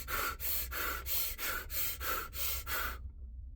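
Rapid rhythmic breathing demonstrated close up, about seven quick forceful breaths in a steady pulse before stopping abruptly into silence.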